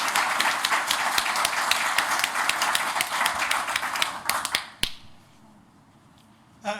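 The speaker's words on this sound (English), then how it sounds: "Could we please have another round of applause for our recipient?" An audience applauds an Order of Australia recipient at a Queen's Birthday honours ceremony, a dense, sustained round of clapping in a hall that tapers off into quiet, with a final faint thump.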